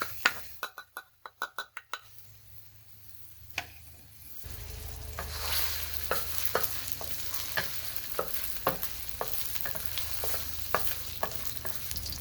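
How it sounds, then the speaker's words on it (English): Garlic and ginger hit a hot wok, a few sharp clinks of spatula on metal giving way to a steady, close sizzle of frying with regular scraping strokes over several seconds. "So now let's add the garlic and ginger."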